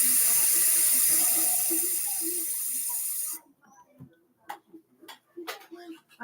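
Tap water gushes steadily into a dog's water bowl, loud and close for about three seconds before the faucet shuts off, followed by quiet clinks, taps and handling sounds.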